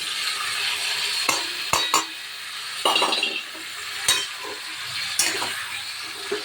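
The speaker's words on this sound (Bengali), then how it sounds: "খুব ভালোভাবে ভাজা হয়ে গেছে এবার মশলাটা দিয়ে দিই" Fried vegetables for labra being stirred with spice paste in a hot pan, a continuous sizzle broken by several sharp scrapes and clinks of the utensil against the pan, close and without talk.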